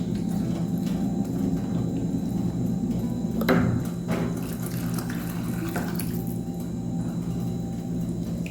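Water runs from a kitchen tap in a steady stream for several seconds while water is added to tomato sauce, with a few clinks and knocks of utensils mixed in.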